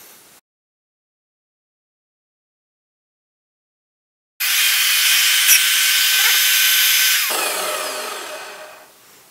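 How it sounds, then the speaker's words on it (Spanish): A milling machine cutter taking a one-millimetre pass across a small metal plate, with a sudden loud, steady grinding, scraping whine that starts after near silence, holds for several seconds and then eases and fades. "Y ahí tenemos ya la chapita puesta, la fresa preparada y hemos graduado la cabeza para que baje un milímetro."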